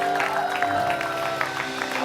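Studio audience applauding on an Indonesian TV talk show, a short steady spatter of clapping with a faint voice underneath.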